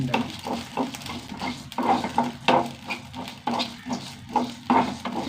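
Crackling and popping from a hot pan roasting ingredients for an idli and dosa spice powder, bursts rising and falling in quick uneven spurts, with occasional utensil scrapes close by.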